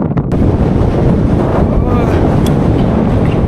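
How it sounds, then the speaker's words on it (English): Strong gusts of wind on a bridge along the Karakoram Highway in Xinjiang roar loudly and continuously across a cyclist's microphone, a dense buffeting rush with no letup. "Whenever there's a massive wind gust, I hold on to the bridge and wait until it gets better."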